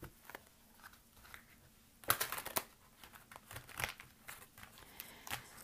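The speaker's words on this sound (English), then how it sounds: "these cards are still a little bit new, so they're not like the easiest to shuffle" Fairly new, stiff angel tarot cards being shuffled, soft papery crinkles and sharper snapping riffles in irregular bursts, close and quiet, with no talking.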